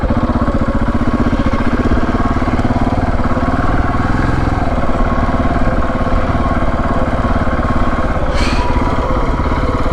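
A KTM 690 Adventure motorcycle engine runs steadily at a constant throaty rumble, loud and close, with no pauses throughout.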